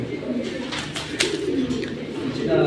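Large military silver pigeons coo in low, rolling murmurs, close and continuous over a dense background of birds.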